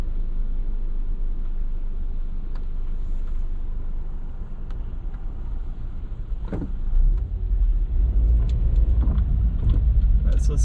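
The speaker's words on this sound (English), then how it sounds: "I've never had a traffic jam on this rotunda before." Steady road rumble and engine drone from a car inside a traffic jam at a Macau roundabout, broad and continuous throughout, swelling louder near the end; a few faint clicks and small sounds sit on top.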